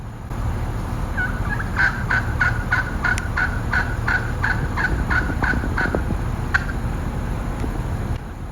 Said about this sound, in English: Check out all these turkeys in the Dollywood parking lot.